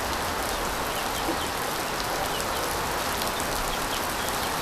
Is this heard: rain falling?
yes